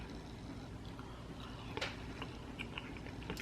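Someone bites into and chews hot homemade Italian meatballs, making soft, moist chewing sounds under a steady, fairly loud background hiss.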